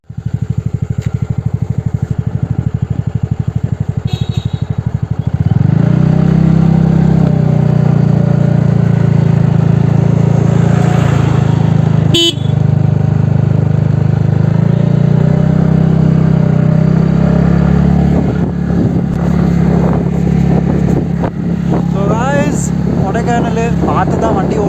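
A TVS NTORQ 125 scooter rides a hill road near Kodaikanal, its engine humming steadily and close, rising in pitch under throttle midway, with wind and a rider talking over it.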